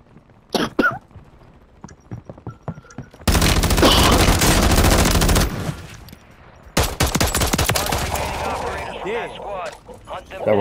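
Bursts of automatic gunfire from the Call of Duty video game, two long dense barrages separated by scattered single shots and thuds, loud and close.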